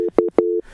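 Telephone busy signal on a radio call-in line after the caller drops: three short, loud, evenly spaced beeps with brief gaps, alone with no talk.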